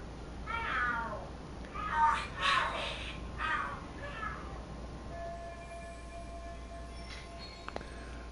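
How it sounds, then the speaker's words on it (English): Cats yowl and screech in a short burst of fighting from the video game Lost Judgment, with several rising cries in the first half and quieter background sound afterward. "Oh, are there cats fighting? What are they screaming for?"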